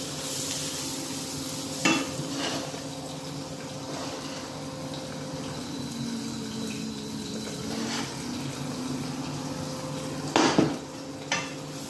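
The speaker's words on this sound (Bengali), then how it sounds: "মরিচের ফাঁকিগুলো ঢেলে দিলাম" Onions with chilli and coriander powder stirred in a hot pan, a continuous soft sizzle and low hum punctuated by a few sharp spatula knocks against the pan, no voices.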